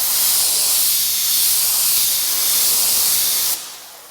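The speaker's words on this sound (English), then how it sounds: "When I pull the trigger, product should be coming out." Undercoating sprayer blasting product in a loud continuous pressurized hiss while the trigger is held, then cutting off abruptly near the end to a quieter residual hiss.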